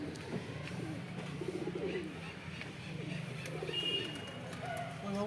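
Giribaj and Madras pigeons coo softly on a shop rooftop, low rolling calls repeating under steady outdoor background noise with faint chirps.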